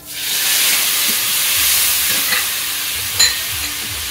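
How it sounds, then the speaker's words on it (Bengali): Chopped tomato dropping into a hot pan with spices and torn bay leaf, a steady loud hissing sizzle that holds throughout with a brief clatter near the end. "এবার এর মধ্যে দিয়ে দেবো একটা কুচানো টমেটো"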